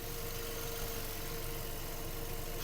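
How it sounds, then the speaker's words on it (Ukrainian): A Volkswagen Touran 1.6 MPI petrol engine idles steadily at close range, a continuous low drone with faint knocking texture, no voices over it. "Робота двигуна"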